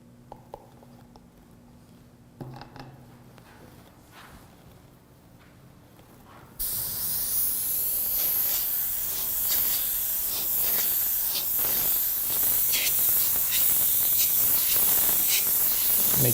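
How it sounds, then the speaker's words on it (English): An airbrush sprays Createx paint thinned about 10% with 4030 reducer: a quiet room first, then a sudden steady, close hiss that runs continuously for around ten seconds. "I'm going to get it in the airbrush and show you what it looks like."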